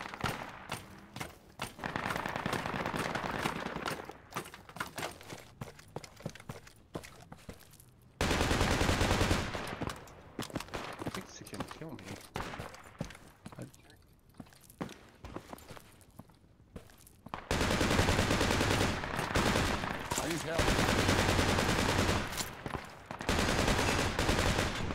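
Automatic gunfire in the military shooter game Project Reality, long sustained bursts broken by short pauses and scattered single shots, loud and close throughout.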